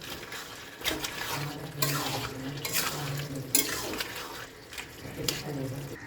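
Fried catla fish head is stirred into a thick spinach curry in a pan, giving repeated wet, scraping swishes in uneven strokes, close and moderately loud.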